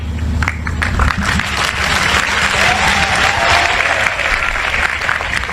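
A large audience applauds steadily and loudly for several seconds, a dense wash of clapping with a low hum beneath and faint murmuring voices under it.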